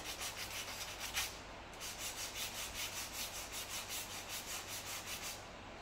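Sandpaper rubs by hand over curb rash on a 2019 Nissan Maxima SL wheel, a quiet, rhythmic back-and-forth scratching in steady strokes roughly twice a second, close and alone.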